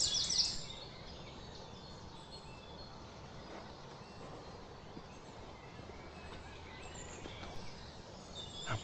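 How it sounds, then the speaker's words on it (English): Birds chirp faintly and briefly near the start along a dry English countryside bridleway, while an overhead aeroplane makes a steady, distant broadband rumble throughout. "So I can hear an overhead aeroplane and I can hear birds."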